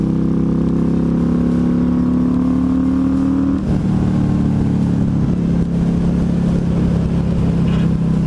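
The engine of a 2015 Yamaha Stryker cruiser motorcycle runs loud and close, its tone rising then settling into a steady throaty drone while riding.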